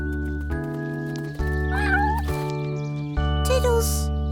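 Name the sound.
kittens meowing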